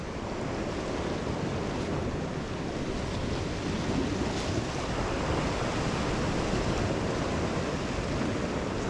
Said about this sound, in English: There's definitely a bit more swell coming in